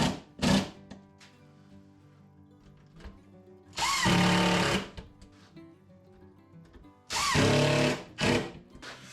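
A power drill drives screws into a slider piece on a storage cabinet, whirring in short bursts: one brief burst, then two longer, louder runs, with quiet pauses and faint handling noises between them.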